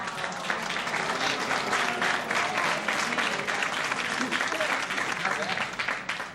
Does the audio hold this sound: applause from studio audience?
yes